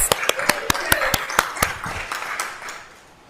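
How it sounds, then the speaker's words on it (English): A church congregation claps for the music director during a service, a few sharp, fairly loud claps ringing out at first and then thinning to scattered, softer ones that fade away. "Let's give a round of applause to our excellent music director"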